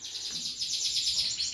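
A Yorkshire canary chirps in a rapid, high twittering run of repeated notes, close and fairly clear, with no voices over it.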